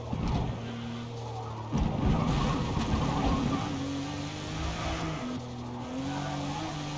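Porsche 911 GT2 RS driven in a Forza racing game, its engine droning steadily with tire squeal and skidding as it corners hard, loud and continuous throughout.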